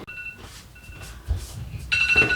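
A kitchen timer goes off while cupcakes bake: faint repeated electronic beeps come in short bursts, then a louder, harsher beeping swells near the end amid light kitchen clatter.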